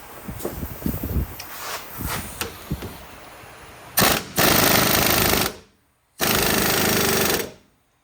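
A ball joint press tightening against the control arm of a 2008 Silverado 1500 4x4 until it bottoms out: faint clicks and movement, then two loud sustained bursts of harsh grinding, mechanical noise with a short gap between them.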